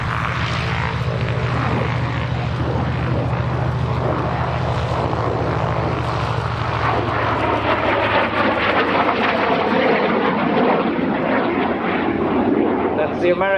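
An F-86 Sabre Mk.6 jet roars through a flying display at Old Buckenham Airshow, a loud continuous engine rush that swells and fades as it passes, with wind buffeting the microphone.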